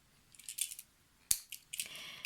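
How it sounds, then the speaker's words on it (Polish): Paper is cut into a circle with a compass cutter, giving quiet, scratchy scraping strokes in short bursts and one sharper click midway. Close and soft, with no talking. "tym moim cyrklem po prostu jadę i wycinam kółko"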